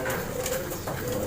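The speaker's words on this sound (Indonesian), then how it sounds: "Nih buat teman-teman bisa punya kesempatan nih pegang burung maskotnya Kusitani namanya Aslan." A pigeon, a prized mascot bird, coos softly while held in hand, giving a short low murmuring call heard up close.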